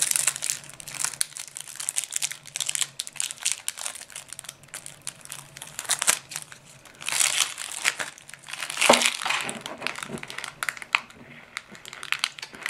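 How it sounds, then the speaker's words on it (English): Duel Decks card packaging for Magic: The Gathering being opened, with steady crinkling and crumpling of plastic wrap and card packaging close by, broken by louder tearing bursts near the end. "So let's crack these open, see what other cards are inside."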